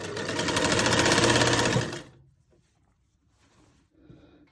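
A sewing machine stitches a cloth armhole in a fast, even run of needle clatter for about two seconds, then stops, leaving near silence and a few soft handling knocks.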